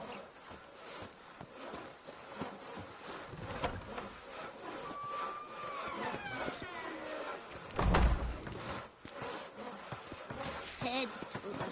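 Cat meowing in The Witcher 3, several drawn-out rising and falling meows amid ambient game sounds, with a louder knock or thud partway through.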